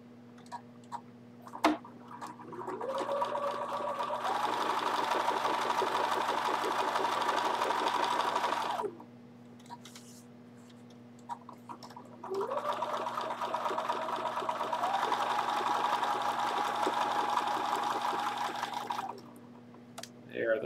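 A Bernina sewing machine runs a short stitch length in two long steady bursts of rapid stitching with a pause between, accompanied by light clicks and a constant low hum in the background.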